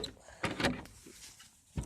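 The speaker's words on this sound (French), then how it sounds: "j'ouvre juste la porte" A door is opened with a couple of quick clicks and knocks of the latch and handle, close by but faint, at a poultry farm.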